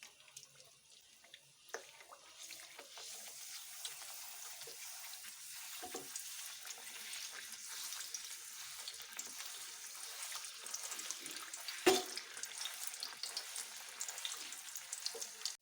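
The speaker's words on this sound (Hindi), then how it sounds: "इन सर्कल को हम डीप ऑयल में फ्राई कर लेंगे" Golgappa (pani puri) dough circles deep fry in hot oil, a faint, steady, hissing sizzle with a few soft clicks and one sharp knock.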